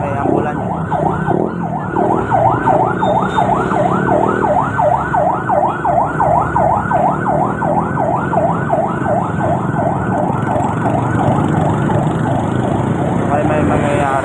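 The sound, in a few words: ambulance siren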